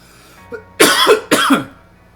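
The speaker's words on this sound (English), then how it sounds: "As I struggle to wrap up here, coughing a lot." Two harsh, forceful coughs in quick succession, close and loud, preceded by a faint throaty catch.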